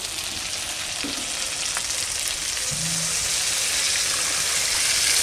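Koi fish fries in oil as water is added, a loud, dense, steady sizzle with a rushing, hissing quality that swells gradually over several seconds.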